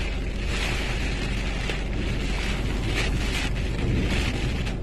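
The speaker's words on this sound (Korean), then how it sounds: "비가 바람이 날려오는 게 보인다" Typhoon wind and rain buffet a parked car, a steady, loud, rushing roar with gusty swells and spattering against the body and glass, constant throughout and without speech.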